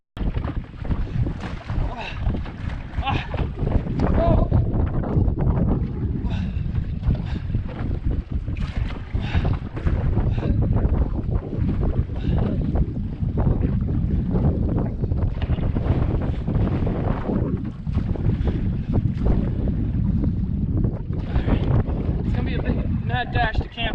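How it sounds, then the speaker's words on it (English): Strong wind buffets the microphone on a lake with whitecaps during canoe paddling, a loud continuous roar with gusts and water sloshing throughout, with occasional talk. "The wind picked up. I got white caps now."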